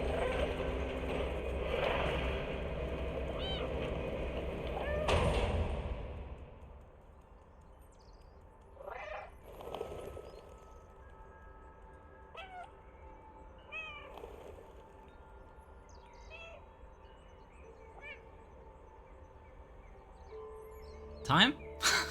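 A cat meows in the video game Stray, a few short mews scattered through a bed of ambient game sound and mechanical clicks, heard faintly under someone talking.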